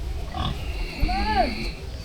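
A pig at feeding time gives a short, rising-and-falling squealing oink against low background voices and farmyard noise.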